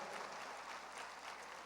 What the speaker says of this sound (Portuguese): Vamos aplaudir a Jesus, porque Ele é digno de toda a honra